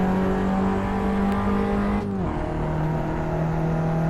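A race car engine in the Assetto Corsa sim racing game drones loudly at steady revs, then its pitch drops abruptly at a gear change and settles into a lower, continuous hum.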